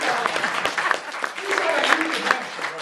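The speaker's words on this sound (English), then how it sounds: "Let's clap for Walter." A seated audience claps at a spiritual talk, with a fairly loud, uneven patter of hands. A voice speaks over the clapping the whole time.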